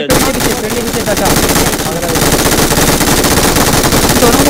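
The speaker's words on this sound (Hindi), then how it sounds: "चार गोलियां चलाई फिर से इस कारल पूरी खाली हो गई" Rapid automatic gunfire from the BGMI battle royale game, a loud dense stream of shots with a few short breaks, heard throughout alone.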